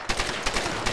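Rapid gunfire in the Tomb Raider video game, a quick burst of several loud, close shots in an uneven rhythm with no talk over it.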